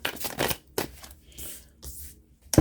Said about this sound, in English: Let's pull some cards for you.